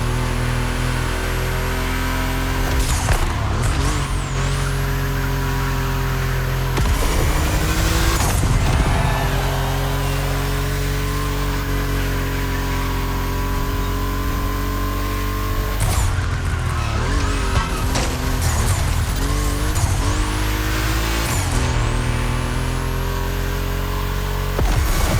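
Volkswagen cars racing on a track in The Crew Motorfest, a loud continuous engine drone with rising and falling revs, gear changes and brief tire skids throughout, no talking.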